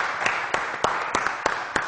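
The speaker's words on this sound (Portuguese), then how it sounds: "agora vamos aplaudir o nosso presidente, Dr. Valdir Vitório!" An audience applauding the Rotary Club president at a formal event: steady clapping from a crowd in a hall, with a few louder individual claps standing out.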